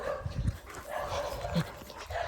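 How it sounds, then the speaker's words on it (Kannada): A household dog gives a couple of short, faint barks, spaced apart against quiet background room noise. "ನಮ್ಮ ಡಾಗ್ ಇಲ್ಲಿ ಉಂಟು."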